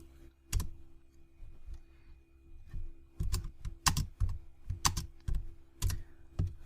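Keys on a computer keyboard click in short uneven bursts as a command is typed into a Linux terminal, close and distinct against a quiet background with a faint hum.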